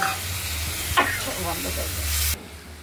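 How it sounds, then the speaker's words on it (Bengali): Potatoes and spice paste fry in a pan with a steady, dense sizzle and a few scraping stirs, then the sizzle cuts off abruptly near the end. "আলুটা আমরা মশলাটা আলু দিয়ে কষিয়ে নেব।"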